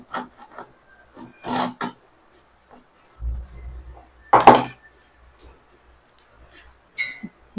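Beetroot being grated by hand for a natural hair shampoo, giving a few short, close rasping scrapes with pauses between them, plus a couple of faint knocks.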